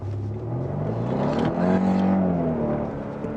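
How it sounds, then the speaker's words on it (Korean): A Kia K5 1.6 turbo in sport mode, its virtual sound generator producing a loud synthetic engine drone from the front of the cabin that swells and rises in pitch as the car accelerates, with no talk. "가상의 사운드 제너레이터 소리가 앞쪽에서 들립니다"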